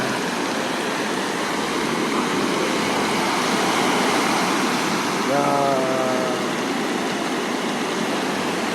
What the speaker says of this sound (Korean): 아, 야, 파도 소리 좋다,